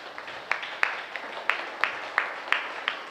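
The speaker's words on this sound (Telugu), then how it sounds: "గట్టిగా ధ్యానానికి చప్పట్లు." A small audience claps together after a group meditation session at an ashram, a quiet, scattered round of individual claps with sharp uneven hits over about three seconds, fairly faint and with no talking over it.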